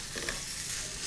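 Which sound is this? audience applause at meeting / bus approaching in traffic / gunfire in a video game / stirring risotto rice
stirring risotto rice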